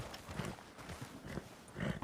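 Horse hooves clopping in a video game, a few uneven muffled thuds spread over two seconds amid ambient game noise, fairly quiet with no talk over them.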